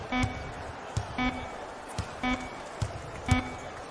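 Buzzer in a basketball video game, short electronic buzz tones repeating at roughly one-second intervals over crowd and arena noise, fairly loud and alone without commentary.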